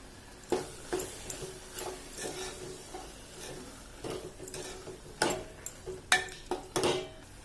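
Masala spices frying in a pan for a prawn dish, giving a steady soft sizzle with scattered louder ticks and stirring clatters, closer and busier toward the end, with no talking.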